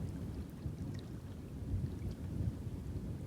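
A thunderstorm rumbles over a wilderness lake near a cliff during a canoe trip in Woodland Caribou Park, with a low, continuous roll of thunder and rain hiss, fairly faint and steady, with no talking.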